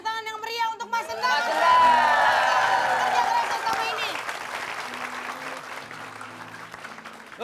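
A studio audience applauds loudly for Mas Endang, the clapping swelling early and then slowly fading, with crowd chatter and background music underneath.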